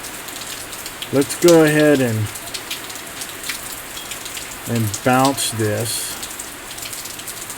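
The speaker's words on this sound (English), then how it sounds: "Sorry for the background rain" Rain falls outdoors in the background as a steady, soft hiss with scattered drops, continuing under someone speaking in two short bursts.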